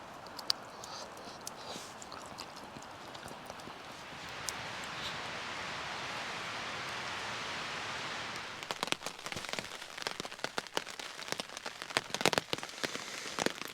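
Steady rain patters over a forest camp in the UK, a dense hiss swelling midway, then heavier scattered drops and drips landing close by on nearby surfaces, with no voices.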